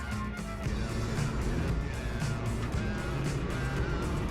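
A Citroen C1 cup race car runs flat out around Silverstone during a race, its small engine droning steadily and loudly with wind and road noise, a continuous busy roar with no pauses and no talk.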